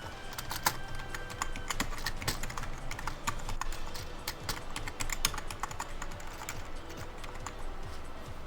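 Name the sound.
typing on computer keyboard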